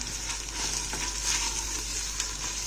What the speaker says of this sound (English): it's been 14 minutes since we started cooking the onions